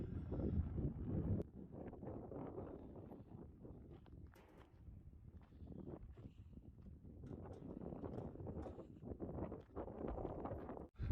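Wind at a coastal car park in Western Australia buffets a microphone in low, rumbling gusts that rise and fall for several seconds, outdoors with no voices.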